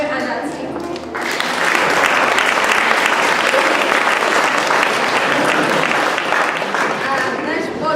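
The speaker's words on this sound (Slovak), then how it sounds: "A náš potlesk a poďakovanie si zaslúži aj pani učiteľka Mendelová, Pančka Belčická a pani učiteľka T" An audience at a school event breaks into loud, sustained clapping that swells quickly and holds steady, a dense crowd applause filling the room with no break.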